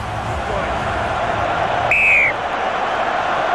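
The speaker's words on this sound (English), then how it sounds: "There's the whistle. We're underway." A single short, shrill referee's whistle blast starts a 2003 World Cup final match over a steady crowd murmur.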